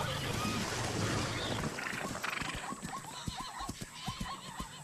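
A zebra thrashes in shallow river water under a crocodile attack, with splashing, sharp splashy thuds and a neighing, whinnying call against steady wind noise.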